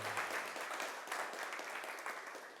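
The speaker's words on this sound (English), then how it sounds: "I think Kafil is just getting addicted to clapping." Applause from an audience at a commercial security technology showcase: a steady wash of clapping hands, fairly faint and distant, holding for a couple of seconds before tapering slightly.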